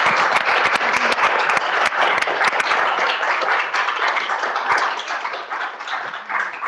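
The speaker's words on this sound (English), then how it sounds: "Can I get a round of applause?" A seminar audience at a women in science event breaks into loud, close applause, many hands clapping in a brisk, uneven patter that carries on for several seconds and eases slightly toward the end.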